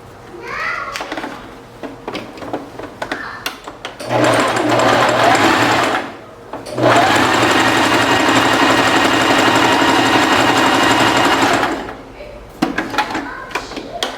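A domestic sewing machine stitching fabric runs in two steady, loud whirring bursts of a few seconds each, close up, with someone talking before, between and after the runs.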